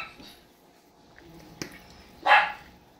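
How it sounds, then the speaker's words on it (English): A single distant dog bark rises out of a quiet room, preceded by a faint click. "We got a barking dog."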